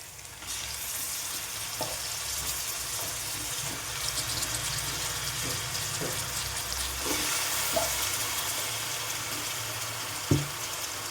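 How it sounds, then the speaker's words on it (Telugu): Washed chicken pieces drop into a pan of cooked ginger-garlic paste for a gongura chicken curry, giving a steady close sizzle with a few soft clicks of spoon against pan. "దీంట్లోకి మనము మంచిగా కడిగి పెట్టుకున్న ఈ చికెన్ కూడా వేసేద్దాము."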